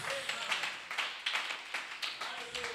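Church congregation clapping in steady rhythm during worship, a run of brisk hand claps at a moderate distance under a faint voice.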